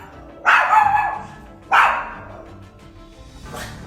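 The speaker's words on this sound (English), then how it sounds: "found the dog to be endlessly barking while looking at a single point of the house" A dog barks intensely in a house, two loud, close barks a second or so apart followed by a fainter third bark.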